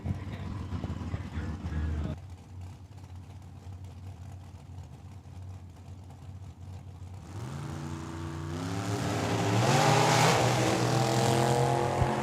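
A dragster at a drag strip race, with a distant engine drone that swells into a loud rising roar as the car launches and accelerates away. The run ends in a dense, roaring blast.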